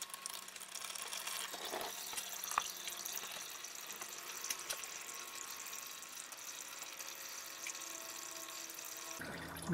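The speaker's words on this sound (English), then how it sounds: "until we finish draining the oil from the oil filter" Motor oil draining out of the oil filter housing on a 2015 Mini One 1.2, a steady thin trickle of liquid running alone at close range with no talk, ending in a short clatter.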